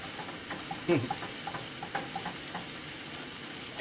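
Gravy stirred in a hot pan, soft sizzling with light scraping and spoon taps throughout, quiet and close.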